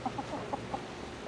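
A single city-yard chicken among overgrown bamboo gives a rapid series of five or six soft clucks, fairly faint and close, evenly spaced over about a second.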